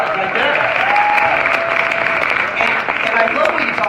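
A San Diego talk-event audience gives a steady burst of dense applause, with voices faintly audible beneath the clapping.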